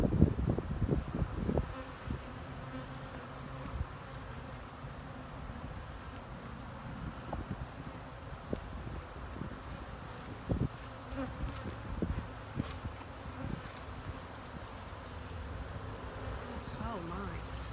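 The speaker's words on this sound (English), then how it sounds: "Look how many bees there are." Honeybees hum in an open hive, a steady close buzzing that fills the whole stretch, with handling knocks and taps near the start and scattered through, and no clear talk.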